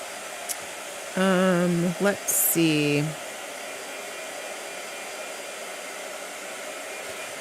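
A handheld blow dryer runs steadily over 300 GSM watercolor paper, a loud constant whoosh throughout, while a person briefly speaks and hums near the start.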